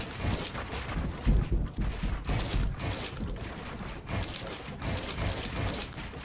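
Many guns going off at once in the video game PUBG, a busy spread of overlapping shots with sharp cracks at irregular intervals, moderately loud throughout.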